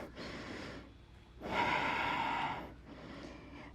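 Deep yoga breathing held in downward-facing dog: slow, close, breathy inhales and exhales, one long central breath between softer ones, with no talk.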